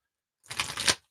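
A deck of Magic cards is riffle-shuffled once, a brief close, crisp burst of fluttering card clicks after a moment of silence.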